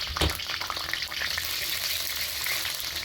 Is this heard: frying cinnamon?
yes